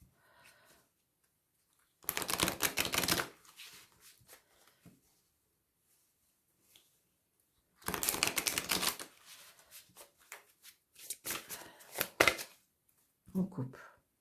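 Tarot cards are cut and shuffled in several short bursts of dense riffling and slapping, close and crisp, separated by quiet pauses.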